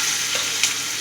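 Mustard seeds and curry leaves sizzle in hot oil with a dense, loud, continuous crackle and one brief pop.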